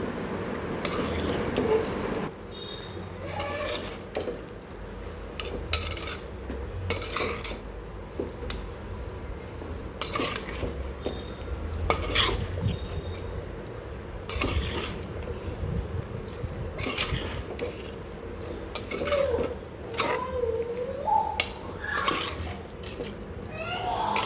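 A spoon scrapes and clinks against a pan, stirring ground masala into cooked black chana for a Konkani-style sukka, with repeated sharp taps over a low background.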